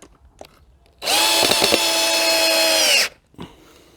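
A Lidl Parkside cordless impact driver in drilling mode whirs steadily for about two seconds, a loud, even high-pitched motor whine with a brief rattle near the start, quiet before and after.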